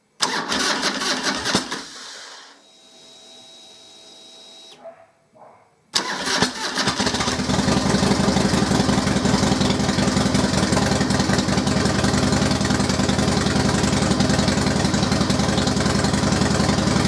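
A trike engine cranks and catches after a pause, then settles into a loud, steady idle that runs on close by with an even rumble and no talking.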